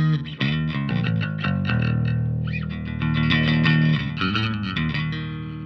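A cheap bass amplifier on its modern setting, with more headroom than classic, played as a continuous run of sustained, fairly loud bass notes with no voices.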